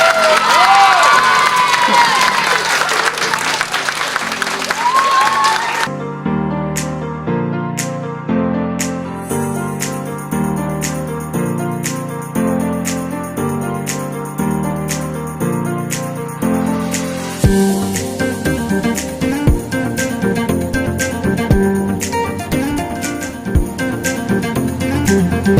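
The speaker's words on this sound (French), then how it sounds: "levez-vous et applaudissez les plus forts s'il vous plaît." Audience at a French spelling contest cheering and applauding the participants, a loud crowd roar with shouts at first, then clapping continues under rhythmic music with strong beats.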